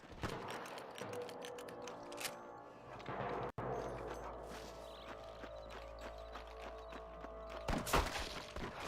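Gunfire in the Western video game Red Dead Redemption on Xbox 360: several sharp, scattered shots with mechanical clatter over a busy game soundscape, ending in a loud burst near the end.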